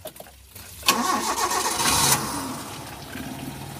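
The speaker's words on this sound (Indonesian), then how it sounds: "kemudian kita hidupkan mesinnya" Car engine cranking and catching after the radiator has been drained, a sharp start burst followed by a steady mid-pitched idle, close and loud with no speech.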